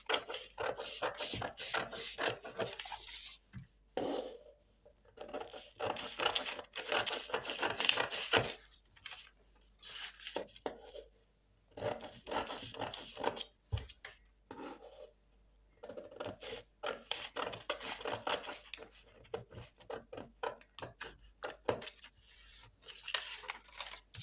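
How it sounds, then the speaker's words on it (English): Scissors cut through fabric pattern pieces for a bustier with close, crisp snipping and paper-like rustling in irregular bursts, with quieter pauses between runs. "Cutting out the front pattern."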